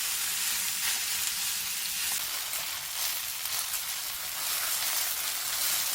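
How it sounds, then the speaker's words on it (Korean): Onions stir-fry in a hot pan for a dried radish-greens dumpling filling, giving a steady, fairly quiet crackling sizzle with faint scraping as they are stirred and no one talking. "그래서 양파를 먼저 볶아줍니다."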